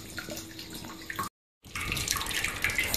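Wort running from the mash tun taps during the sparge of an all-grain pale ale brew, a steady close trickle and splash that cuts out briefly before returning louder and brighter.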